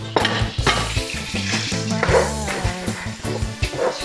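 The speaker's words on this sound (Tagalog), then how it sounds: "Ayan, gigisa na yung sibuyas." Onions sautéing in a hot pan for pork binagoongan with eggplant, a steady loud sizzle punctuated by repeated scraping and clacking of a utensil against the pan as they are stirred.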